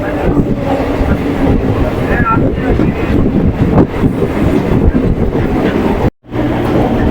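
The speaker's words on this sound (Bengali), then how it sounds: "শিয়ালদার থেকে ট্রেনটা এখন ছেড়ে দিয়েছে" A Budge Budge local train leaving Sealdah rumbles loudly along the tracks with steady clattering wheels, close and continuous, cutting out briefly near the end.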